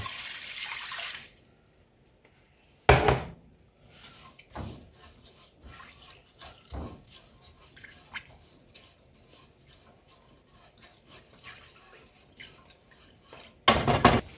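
Liquid poured into a pan of browned ground beef, giving a few sharp splashing bursts and intermittent dripping and bubbling between them, close and fairly quiet apart from the splashes.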